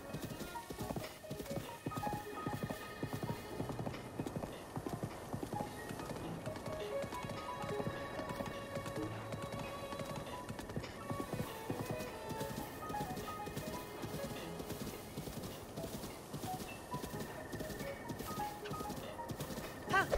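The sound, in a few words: horse hooves while riding in video game Zelda: Breath of the Wild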